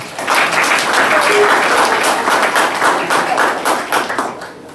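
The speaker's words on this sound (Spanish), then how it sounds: "pido fuertes palmas" Loud, dense applause from a seated audience at a book presentation fills the hall for nearly five seconds, steady and sustained before tapering slightly at the end.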